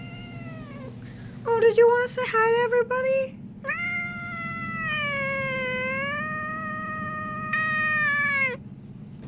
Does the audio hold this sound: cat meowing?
yes